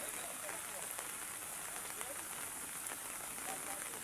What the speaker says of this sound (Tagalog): Tuloy-tuloy pa rin yung lakas ng ulan.